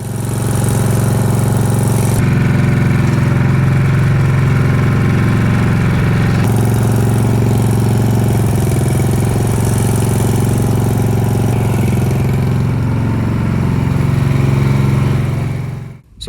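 A Snapper riding lawnmower engine runs continuously and loudly up close after its friction wheel was replaced, a steady mid-pitched drone that shifts slightly in tone before cutting off at the end.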